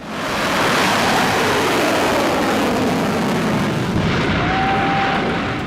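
A missile launch and explosion from an AI-generated war scene, heard as a loud, continuous roaring rumble that stays dense and sustained throughout with no talking.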